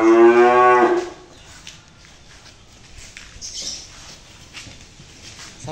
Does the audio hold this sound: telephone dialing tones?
no